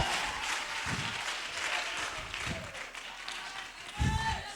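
In a church, a congregation applauds and cheers in a steady, fairly faint wash of clapping, with voices underneath.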